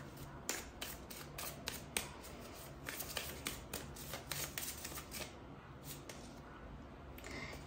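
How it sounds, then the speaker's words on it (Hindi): A deck of tarot cards is handled, with a string of quick papery flicks and riffling slaps as a card is drawn, close and fairly quiet with no talking. "we will take one more card from this deck."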